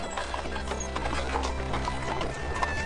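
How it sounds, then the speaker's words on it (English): Hooves of horses pulling three carriages into an ancient Chinese village, a close, busy clip-clop of many hooves with faint creaking of the carriages. "At this moment, 3 horse-drawn carriages entered the village of Dalu."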